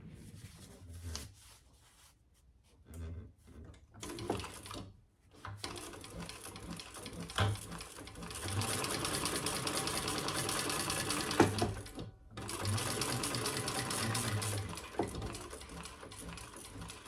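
A sewing machine runs in several bursts while stitching a bucket bag seam, close and buzzing, with short pauses between longer steady stretches of stitching.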